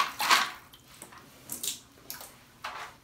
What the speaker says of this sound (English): Go ahead and rinse those out.